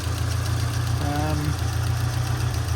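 A 1991 Saab 900 Carlsson with 261,000 miles idles under an open bonnet, a steady low mechanical hum held close and even throughout, with a brief faint whine rising partway through.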